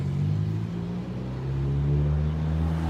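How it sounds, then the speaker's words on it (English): A loud silver car passes close by with a strong low engine rumble, a steady roar rising slightly toward the end, heard alone without talk. "Here comes a loud silver car"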